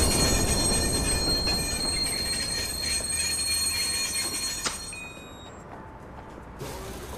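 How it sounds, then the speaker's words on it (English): Train in the Watch Dogs video game rolling into a station, a loud continuous rumble with squealing wheels and mechanical clatter that gradually slows and fades, ending with a short metallic release. "Southbound train arriving shortly."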